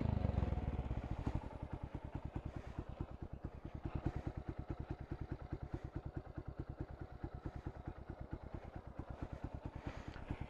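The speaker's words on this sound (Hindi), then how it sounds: "बिना डीपी किलर का भी आपको आवाज सुना देता हूं।" A Honda Hornet 160R motorcycle idles with a loud, deep, open exhaust with the dB killer removed, a steady rapid thumping pulse running throughout without other sounds.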